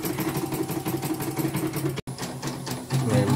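Embroidery machine running under heavy rotation load at a CNY embroidery machine service shop, giving a steady close mechanical whir with rapid rhythmic stitching clatter and a brief dropout midway.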